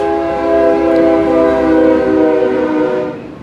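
A loud train passes close by, its horn sounding a sustained, swelling tone over the rumble of the rails for the whole stretch before starting to fade near the end.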